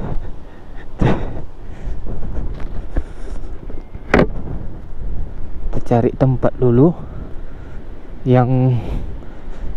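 Strong wind buffets an exposed camping site in a steady roar with rough microphone rumble throughout, while people talk over it in short bursts.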